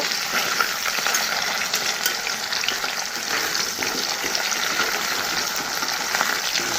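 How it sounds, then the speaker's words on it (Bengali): Taro pieces fry in hot oil in a pan, giving a steady, dense sizzle that stays loud and even throughout with no voices. "চলো কচুটাকে একটু ভেজে নিই ভালো করে"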